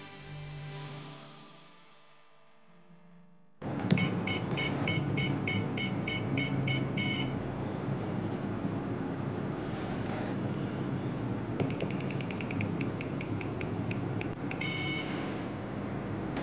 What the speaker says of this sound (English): You can hear the buzzer beep quickly, adding to the effect of a rolling dice.